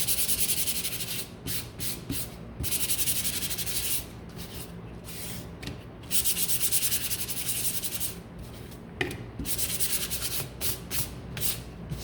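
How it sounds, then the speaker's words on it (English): Sandpaper rubbing back and forth over painted wood for a witch's broom craft, steady scratchy strokes in repeated bursts with brief pauses, close and moderately loud. "So I need to sand these ones."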